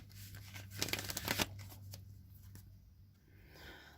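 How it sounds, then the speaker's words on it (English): Oracle cards from a Wisdom of the Oracle deck shuffled close by, with a dense burst of riffling around the middle, then quieter handling and a low steady hum. "I'm going to shuffle the Wisdom of the Oracle deck"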